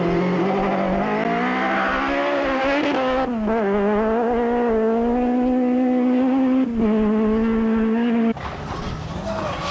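A rally car on a South African stage in 2003 screams at high revs, its engine note climbing and dropping through gear changes and lifts, loud and close for several seconds before cutting to a quieter, rougher section.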